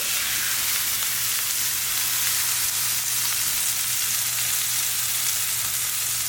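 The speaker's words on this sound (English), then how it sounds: "when you put your steak in the skillet, you want to hear this sound right here." Loud, steady sizzling of steak searing in a hot oiled skillet, a dense crackling hiss that continues without a break.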